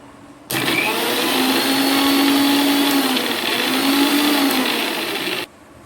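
A mixie blender whirs steadily while blending homemade mayonnaise, starting abruptly and running loud and continuous for about five seconds with a slight dip in pitch midway, then cutting off.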